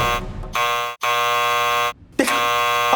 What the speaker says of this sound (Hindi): अभी मैं इस भूतोमीटर को उनके पास लेके जाऊंगा तो बीप बीप करेगा